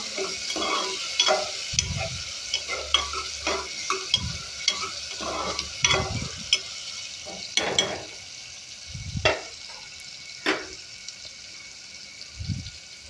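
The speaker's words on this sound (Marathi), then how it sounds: "टोमॅटो पण मऊ पडेपर्यंत परतायचे आहेत" Tomatoes for a matki rassa bhaji are sautéed in a pan until soft, with a quiet sizzle broken by irregular close scrapes and soft knocks of a spoon against the pan.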